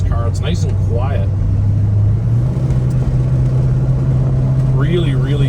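A 1969 Plymouth GTX with a Hemi engine and stock exhaust drives along, its steady low engine drone continuous and fairly quiet from inside the cabin, with someone talking over it at times.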